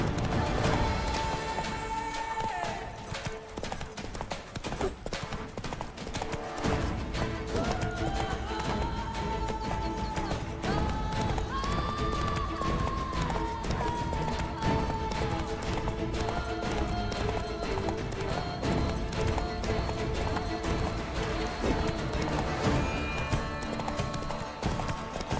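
Roach, the horse in The Witcher 3, gallops in a steady, continuous clip-clop of hoofbeats that stays loud throughout, layered over music and game ambience.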